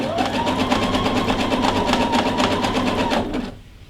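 A sewing machine runs a zig zag stitch along a fabric edge, a loud, close, rapid steady chatter of the needle that stops abruptly near the end.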